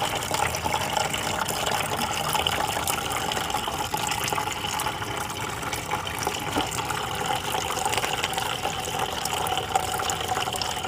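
Engine coolant drains from a Ford Focus in a steady, unbroken splashing gush of liquid, close and constant throughout, with no talk.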